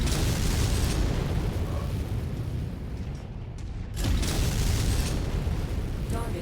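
Explosions rumble loudly in a MechWarrior battle as a target is destroyed, a dense roaring blast that eases briefly mid-way and then surges back just as loud.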